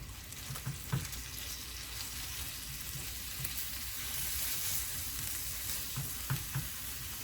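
Clam meat stir-frying in a pan with garlic and soy sauce, a steady soft sizzle with faint scraping stirs and occasional light clinks, fairly quiet and close, no voices.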